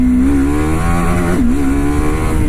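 A TVS RTX300 motorcycle accelerates in second gear, its engine droning steadily with a rising pitch that dips briefly and climbs again, loud and close throughout with constant wind noise.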